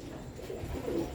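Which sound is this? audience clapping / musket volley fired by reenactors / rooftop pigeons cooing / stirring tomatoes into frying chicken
rooftop pigeons cooing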